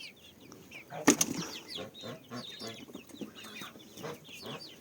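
Young chickens cluck softly in a loose, scattered rhythm at close range, with one brief louder burst that sounds like flapping, and a faint voice in the background.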